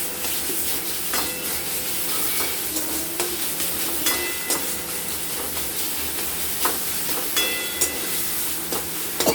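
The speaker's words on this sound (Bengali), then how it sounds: "চিকেনটাকে আমরা ভালো মতো করে কষে নেব।" Chicken pieces fry in a pan for chicken moglai, sizzling and hissing steadily while being stirred, with occasional light scraping clicks from the utensil, close and continuous.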